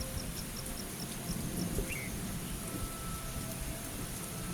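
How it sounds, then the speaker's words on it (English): Steady rain falls over a rural landscape at night, with a low rumble of thunder running underneath; the wash of rain is continuous and moderately loud, with faint insect chirps high above and no voices. "The rain transforms the landscape into a lush green cover."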